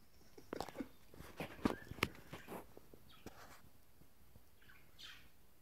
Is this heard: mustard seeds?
no